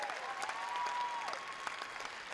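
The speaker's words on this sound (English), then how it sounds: "give them one more massive round of applause, even louder than that." Applause from an audience after a school performance by Haeata Community Campus at Showquest 2018, moderately loud and steady, with a faint sustained whistle-like tone drifting through it.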